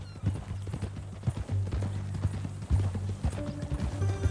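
Horse hooves clip-clop in a western video game as two riders travel together, a steady close rhythm of hoofbeats over a low rumble, with an occasional snort and no speech over it.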